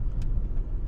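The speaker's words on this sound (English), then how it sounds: "So now we're driving south on 24th." A car drives along a residential street in Norman, Oklahoma, its steady low road rumble and engine hum continuous and close throughout, with no talking.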